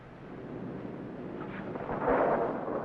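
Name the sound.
thunder of an approaching storm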